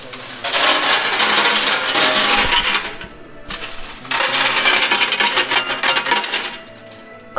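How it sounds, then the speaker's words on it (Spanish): Coins cascade inside a coin pusher arcade machine in dense metallic clinking, loud and close, in two long bursts separated by a brief lull. "¿Sí escucharon todas las monedas que cayeron?"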